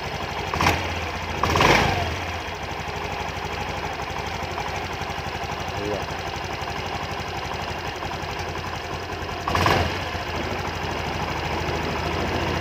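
Honda Beat motorcycle engine running at a steady mid-pitched idle during a diagnostic scanner test, with a few brief louder bursts where the revs rise, heard up close and without talk.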